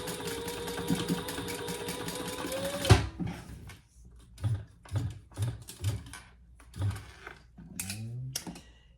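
Sewing machine topstitching a zipper on a cork wallet, a fast steady mechanical whir for about three seconds, then stopping, followed by quieter clicks and handling sounds.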